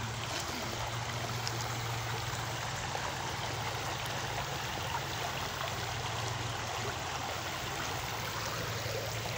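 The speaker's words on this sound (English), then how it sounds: "Actually coming up to like a little bit of a waterfall." A small waterfall feeds a flowing stream, giving a steady, even rush of water with no voices.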